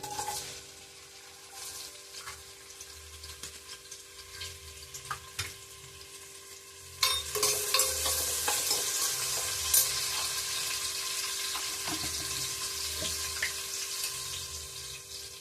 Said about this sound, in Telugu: కట్ చేసి పెట్టుకున్న ఆనియన్ వేస్తున్నాను